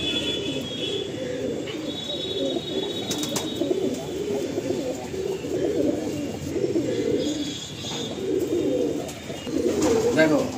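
Pigeons kept by a fancier, male and female, cooing with low repeated throaty coos through the whole stretch while a person talks at times.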